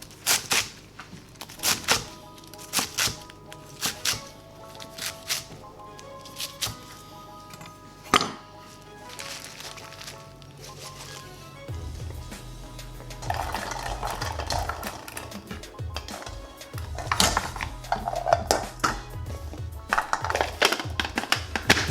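Knife chopping green onions and trimmed Chinese chives on a cutting board, a run of quick, crisp taps in short bursts with pauses, close and fairly loud, with no talk.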